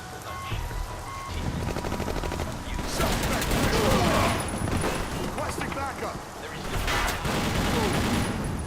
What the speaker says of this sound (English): 3 pistol bullets to the chest. Takes out a Krone police.